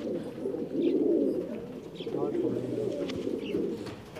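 Colored home-bred pigeons coo in a low, soft, rolling murmur, several birds layered close together, with a few faint chirps above.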